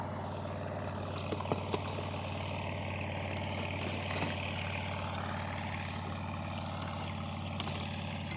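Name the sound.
loud motor boat engine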